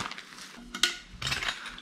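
Camping cutlery and a small plate clink and scrape as they are handled for a canoe trip, a few light metallic taps and rattles close by, with no speech.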